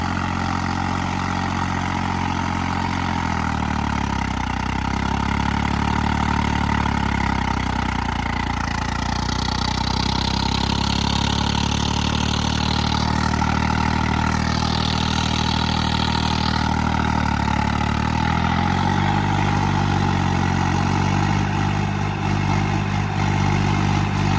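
Tractor engine running steadily throughout a turbo test, a loud continuous low rumble with harmonic drone and a brief higher whine swelling midway, no talking.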